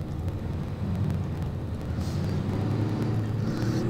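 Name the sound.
car engine noise in the video game Mafia II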